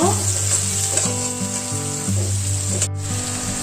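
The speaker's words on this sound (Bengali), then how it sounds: "তারপর দিয়ে দিব কুচি করা পেঁয়াজ ব্রাউন কালার করে ভেজে নেব" Chopped onions frying in oil with five-spice seeds until brown, a loud, steady sizzle close by, with tonal music playing underneath.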